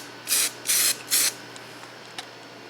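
Three quick, close bursts of an aerosol can spraying Colorbond vinyl paint in Chrysler Dark Mist Gray, used to restore a 1984-88 Toyota pickup; each hiss lasts about half a second, followed by faint clicks in a quiet room.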